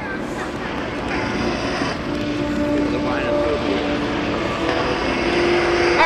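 Three aircraft of the Red Star Northeast Raiders aerobatic team fly in at the 2010 Greenwood Lake Airshow, their propeller engines droning steadily at a moderate distance beneath an announcer talking over a PA.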